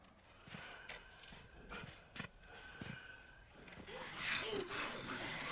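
Horse hooves clop in an uneven rhythm with a few snorts in a scene from The Walking Dead, under a steady ambient hum and some rustling.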